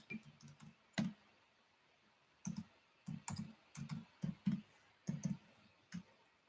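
A computer keyboard is typed on in short, irregular clusters of soft clicks, with a silent gap of about a second and a half before the typing resumes, and no voices.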